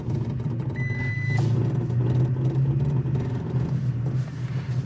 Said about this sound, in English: I turned off multi-terrain select there. That was the beep you heard